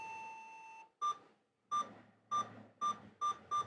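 Retro computer game beeps play on the MEGA 65 built-in core: a steady tone, then six short identical beeps in an even rhythm, clear and close.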